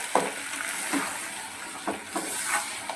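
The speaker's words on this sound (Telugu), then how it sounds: "ఫ్రెష్ అల్లం వెల్లుల్లి పేస్ట్ వేసుకొని బాగా కలుపుకోవాలి" Ginger garlic paste and chicken pieces fry in a pan with a steady sizzle, broken by several scraping stirs of a spoon, close up and without talk.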